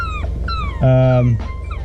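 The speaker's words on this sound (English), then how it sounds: "The dog's stuck around the tree" A dog stuck around a tree whimpers and whines in a few short high cries, then lets out a longer, louder sustained whine, close by, with no talking.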